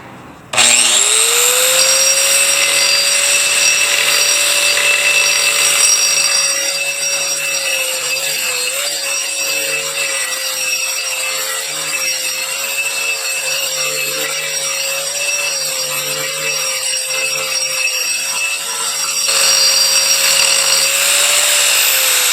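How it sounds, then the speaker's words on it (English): A diamond grinder cleaning the edges of a large rare fossil fish slab from Lebanon, a sustained high-pitched whine with a gritty rasp against the rock, loud and close, running steadily for the whole stretch. "I'm going to take this tool here, which is a diamond grinder thing."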